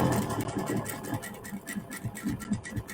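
A sewing machine back stitches while sewing a fabric face mask, a quick rhythmic mechanical clatter of needle strokes, close and steady for a few seconds without talk.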